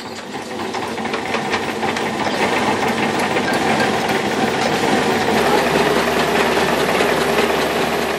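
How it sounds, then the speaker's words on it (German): A maize chicken-feed mill's motor runs steadily and loudly, a dense continuous mechanical drone with rattling grind, holding constant throughout with no talk. "Heute wirft er den Motor der Mühle nur bei Bedarf an."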